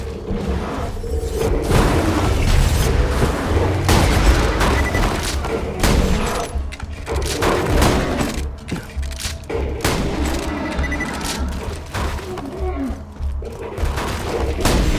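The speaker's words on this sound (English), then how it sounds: "Grenade out!" Borderlands 2 video game combat rumbles continuously with heavy gunfire, rapid bursts, booms and thuds from a grenade explosion, dense and loud throughout with little break, and a voice is faintly present under the din.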